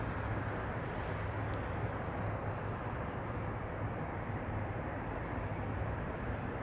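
An Air Canada A320 airliner taxis at Toronto Pearson airport, a steady, broad jet engine rumble and hiss that holds constant throughout at moderate distance, no voices.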